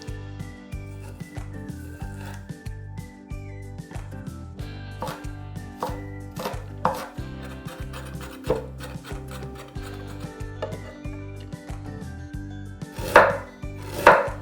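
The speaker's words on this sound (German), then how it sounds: "Die weißen Stiele fein hacken." White spring onion stalks being finely chopped on a board, a fast, steady run of close knife taps throughout, with a couple of louder knocks near the end, no speech.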